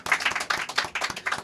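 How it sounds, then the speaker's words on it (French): At a live comedy show in Paris, an audience gives a short burst of clapping in uneven pulses, close and fairly loud, lasting about a second and a half. "Ça s'applaudit."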